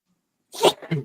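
A single sharp sneeze bursts out after a moment of silence, close and loud, followed by a brief trailing exhale.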